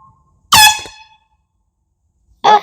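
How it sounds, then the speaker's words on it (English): A boat's push-button horn gives two loud honks, a long blast followed after a pause by a short second one, with no one talking. "This thing that looks like a horn. Honk honk. Push the button if you want."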